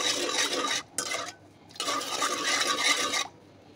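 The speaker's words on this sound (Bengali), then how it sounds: "এখন নেড়ে নেড়ে এগুলোকে গলায় নেব।" Sugar is stirred in a pan as it melts into syrup for murali, close scraping strokes in a few bursts separated by short pauses, with no voices.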